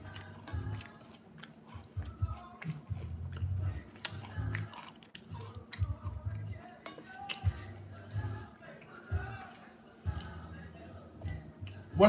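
Buttermilk fried catfish coated in flour and cornstarch is bitten and chewed close up, a steady run of crisp crunches and mouth sounds over twelve seconds, with no talking.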